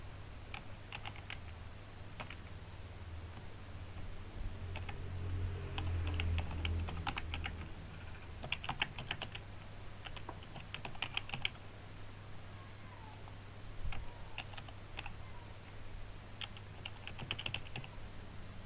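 A name is typed on a computer keyboard in scattered short bursts of soft, close key clicks over a steady low hum.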